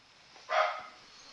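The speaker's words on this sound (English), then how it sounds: "my dog is raising all kinds of cane right now" A single short dog bark, faint and somewhat distant, standing alone against a quiet background.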